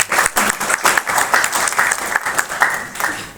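Audience applause at a speech event at a regional public library in Jember, a dense, steady burst of many hands clapping close by, filling the whole stretch with no voice over it.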